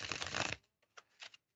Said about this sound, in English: Let's shuffle them once more.